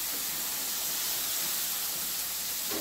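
Potato tipped into a hot pan of mixed vegetables and brinjal for a Bhogi bhaji, giving a loud, steady sizzling hiss that fills the whole stretch, close and unbroken.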